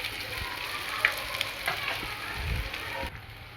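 Masala seasoned with turmeric and red chilli fries in hot oil for a green peas curry, giving a steady close sizzle with a few soft stirring scrapes and small pops, no talking.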